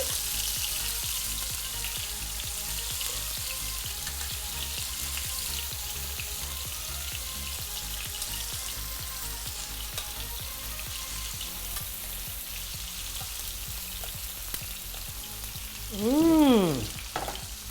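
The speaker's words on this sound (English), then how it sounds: "we're gonna start searing up these bad boys for our shrimp taco" Shrimp seasoned with lemon pepper and garlic powder sear in a hot pan for tacos, giving a steady, even sizzle throughout. Near the end a brief rising-and-falling tonal squeal cuts over the frying.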